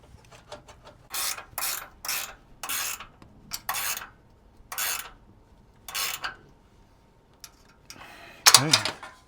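Ratchet wrench tightening a bolt on a Yakima awning mount fastened to 80/20 aluminum rail on a vintage JDM Land Cruiser: about eight rasping clicking bursts in uneven rhythm, close and fairly loud, with a final stronger burst.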